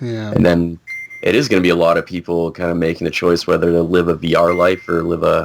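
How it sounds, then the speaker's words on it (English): A mobile phone gives a short, single notification beep during a pause in conversation, while people talk continuously around it. "Oh, that's my phone."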